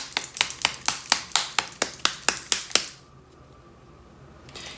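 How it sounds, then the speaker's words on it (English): Bottle of white colorant for UV resin shaken hard by hand, a rapid run of about fourteen sharp close rattling knocks in steady rhythm that stops abruptly into near silence. "I'm just shaking up this white because it settles in the bottom"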